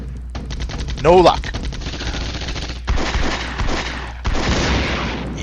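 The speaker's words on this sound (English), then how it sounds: "Our second artillery barrage goes in." An artillery barrage and gunfire in a war video game, dense continuous crackling fire with heavier thuds swelling at intervals, and a brief spoken voice partway through.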